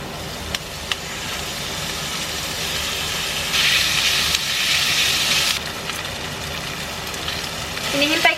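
Pork sizzling in a pan as it browns, a steady hiss throughout that swells louder for a couple of seconds in the middle, with a few faint clinks.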